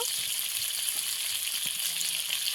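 Pointed gourd (potol) frying in hot oil in a home kitchen, giving a dense, steady hiss and crackle of sizzling up close, with faint utensil taps and no talk.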